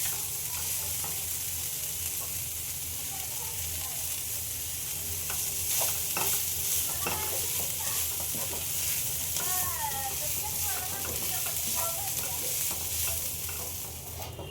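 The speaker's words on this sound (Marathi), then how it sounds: "ही आपण गॅसवर फक्त दोन ते तीन मिनटं चांगली परतून घेऊया आणि आपण ओलं खोबरं टाकून घेऊया" Shegal (drumstick) vegetable stir-fried in a pan on a gas stove with fresh grated coconut, giving a steady sizzle and frying hiss with occasional stirring scrapes throughout, close and continuous with no talking.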